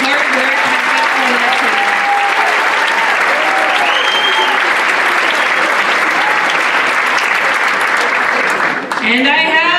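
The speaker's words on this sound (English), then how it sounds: "Let's give Jad a huge round of applause for leading this amazing effort." Loud, dense applause from a community event audience fills the room steadily for nearly ten seconds, with cheers and voices mixed in before it thins out at the end.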